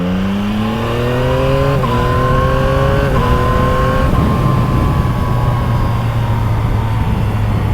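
A 2024 Yamaha MT-09 Y-AMT motorcycle in a restricted 35 kW version accelerates hard and upshifts quickly. The engine note climbs in pitch, then drops back at each of three distinct gear changes, loud and close with no talking.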